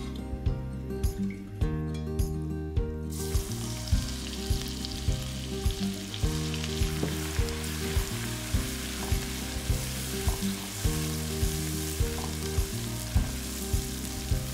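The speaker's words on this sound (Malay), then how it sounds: "Cik Nom tumis bahan kisar dengan minyak bekas gorengan bilis dan bahan-bahan lain tadi." Blended chilli paste sautés in leftover anchovy frying oil with other ingredients, sizzling steadily and close while a spatula stirs and scrapes the pan in a regular rhythm.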